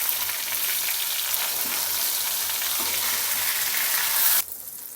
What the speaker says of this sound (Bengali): আমার মাছগুলো এক পাশে হয়ে গেছে, আমি সবগুলো মাছ উল্টিয়ে দিব।